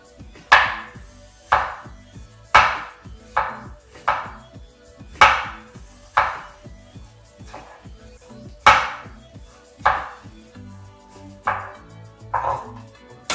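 A knife slices food thinly by hand on a cutting board while preparing Vietnamese spicy beef noodle soup (bun bo hue). About a dozen crisp, clear chops land in a steady rhythm, roughly one per second, over a faint background hum.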